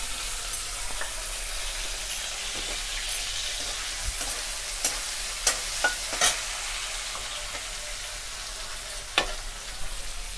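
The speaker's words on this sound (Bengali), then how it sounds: "পেঁয়াজটা আমরা হালকা লাল করে ভেজে নেব।" Onions fry in hot oil over a tempering of spices, a constant close sizzle broken by a few sharp pops and crackles, with no voices.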